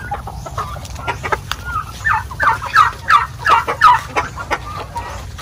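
Native hens in a laying coop give a run of rhythmic clucks and cackles that swell in the middle and ease off, close and clear over low background noise with no talk.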